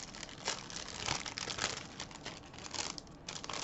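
Plastic packaging from a die-cut card kit crinkles and crackles in close, quiet, irregular bursts as it is worked open, with no speech.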